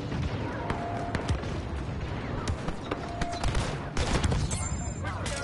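Repeated gunfire rings out in the Mad Max video game, with scattered sharp shots and bursty volleys amid game effects, while a voice talks over parts of it.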